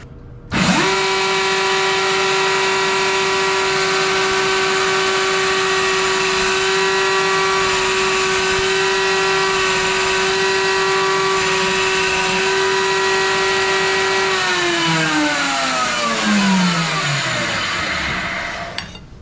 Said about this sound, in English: So what we've got here is this tube notcher, and this is what's going to notch end of this tube.